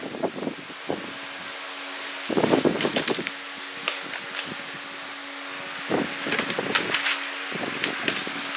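An electric stand fan runs on low, a steady hum with a faint tone under intermittent bursts of rustling and wind-like noise close to the microphone.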